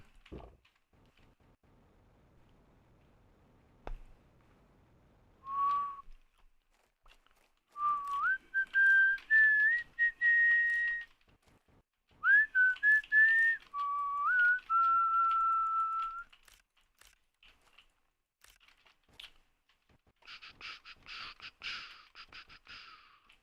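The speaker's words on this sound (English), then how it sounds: "Makes me want to whistle some Christmas songs." A person whistles a few short Christmas tunes in the middle of a space-survival game, with clear bright melodic phrases that come and go between pauses and a quieter hiss near the end.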